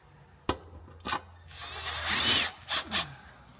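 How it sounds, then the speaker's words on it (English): A quarter-inch ratchet works a bolt loose on a Ford Transit Custom during a wet-belt replacement: a sharp click, then a few short bursts, a longer rasping stretch and two more quick clicks, close up with no talk. "I'll take it out, do it with a quarter jar ratchet."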